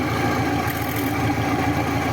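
A carburetor engine runs steadily at idle, close and loud, with an even low hum and rumble and no voices over it.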